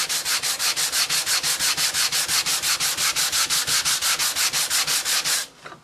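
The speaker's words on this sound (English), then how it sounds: "we're going to go at it with some 220 sandpaper" Steady, rapid back-and-forth sanding on figured maple guitar wood with 220-grit sandpaper, a close, even rasp of roughly five strokes per second that stops abruptly near the end.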